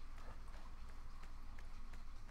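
Horse hooves in Wild West Online pound along in a quick galloping rhythm over a steady low rumble, fairly faint and continuous with no talk over it.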